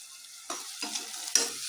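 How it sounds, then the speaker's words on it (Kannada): Onions and masala with a little salt fry in a pan for a home-style chicken biryani and are stirred, giving three scraping stirs over a soft, close sizzle, with no voices. "ಹಾಕೊಂಡು ನೀಟಾಗಿ ಕಲಸ್ಕೊಂಡು ಫ್ರೈ ಮಾಡ್ಕೊಳ್ಳಿ ಸ್ವಲ್ಪ ಗೋಲ್ಡನ್ ಕಲರ್ ಆಗಬೇಕದು"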